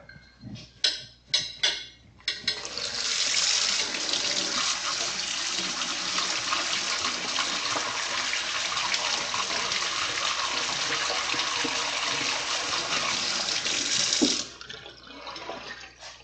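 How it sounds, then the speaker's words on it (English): Tap water runs steadily over squashed berries and their seeds in a container. A few clinks and handling knocks come first, then a continuous, fairly close gush that stops abruptly at the end. "And now run that under the tap."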